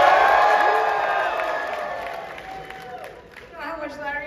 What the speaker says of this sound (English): if it's the one you want to join, I want you to cheer, raise your hand.